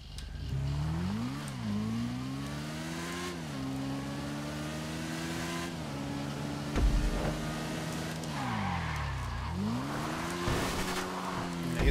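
A stolen car in GTA 5 Online revs and drives hard, engine pitch climbing and dropping through gear changes, with tire squeal and skids close and loud throughout, over steady background music.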